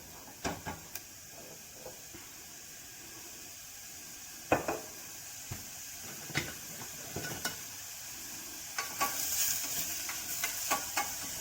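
Garlic prawns browning in a hot pan make a quiet, soft sizzle broken by scattered clicks and stirring scrapes. The scrapes come close together near the end.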